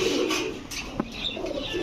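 A maxi racer pigeon, a white grizzle, gives a short, soft coo or two close by, with faint background murmur and no clear talk.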